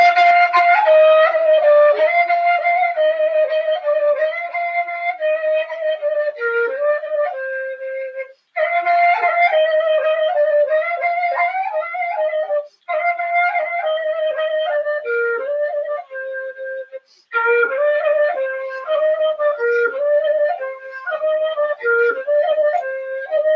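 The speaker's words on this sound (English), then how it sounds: "I'm going to show you what it sounds like when I play it on the kaval." A Bulgarian kaval, an end-blown wooden flute, plays a lively folk melody in an uneven 13/8 meter, breathy and ornamented, close and clear, with brief pauses between phrases.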